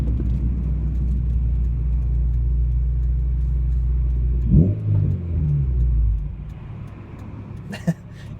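A 2002-2004 Acura RSX Type-S engine idles with a steady low rumble, then gets a short rev around the middle that drops quickly back to idle, with a faint voice briefly audible near the end.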